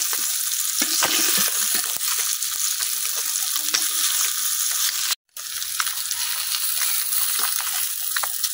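Fish frying in hot oil in a pan while being turned over, a continuous loud sizzle with scraping and clinks from flipping, briefly cut silent midway.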